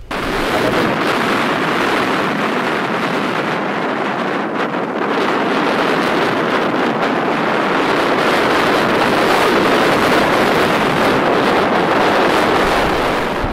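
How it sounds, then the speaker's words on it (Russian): A fierce north wind roars steadily over the Oka river, its waves churning beneath, the gusts buffeting the microphone in a loud, unbroken rush with no talking. "Вот, как вы видите, северный ветер. Совершенно жуткий. Вот такая вот волна."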